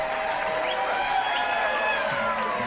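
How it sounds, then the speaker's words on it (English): Applause and crowd cheering play over a podcast, a steady wash of clapping at moderate level with faint voices mixed underneath. "This applause is going off."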